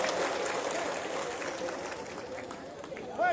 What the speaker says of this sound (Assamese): আপোনালোকক মই অনুৰোধ জনাইছোঁ আকৌ আপোনালোকে এবাৰ হাত চাপৰি মাৰি